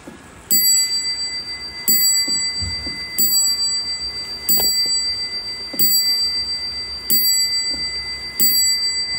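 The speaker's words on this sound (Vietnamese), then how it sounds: "tiếng chuông rất là vang nha anh em" A Japanese desk clock rings its chime bell in seven evenly spaced strikes, each a bright, resonant ding that rings on and slowly decays before the next, heard close and clear with no talking.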